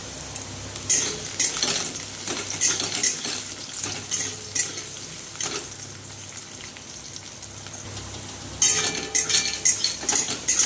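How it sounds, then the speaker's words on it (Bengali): Potatoes frying in a pan for a vegetarian cauliflower, potato and paneer dish, with a steady sizzle under repeated scraping stirs and clinks of a utensil against the pan, which grow livelier near the end. "এবার আলুগুলোকে দিলাম, আলুগুলোকে দিয়ে এবার আলুগুলোকে একটু লাল লাল করে ভেজে নেবো"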